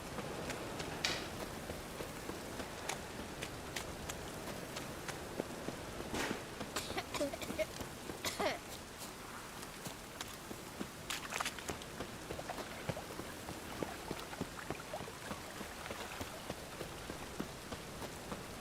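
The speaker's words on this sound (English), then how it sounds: "And it's raining again." Steady rain in the video game The Witcher 3 pattering on a surface, with scattered louder drops and splashes over a constant soft hiss.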